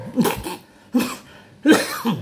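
Three harsh, chesty coughs burst out in quick succession from a person nearby, each short and loud with brief pauses between, no speech alongside.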